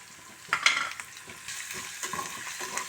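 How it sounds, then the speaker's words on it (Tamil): Tutti frutti frying in ghee for rainbow idiyappam, a soft sizzle with quick stirring scrapes and a sharper clink near the start, steady and fairly quiet. "இந்த டூட்டி ஃப்ரூட்டையும் இந்த நெய்யில் போட்டு வறுத்துடலாம்"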